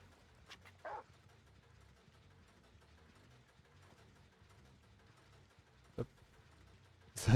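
Hounds in the video game Dead by Daylight give a few short, faint yips and barks, with scattered sharp sounds over a low game ambience and a loud hit at the end.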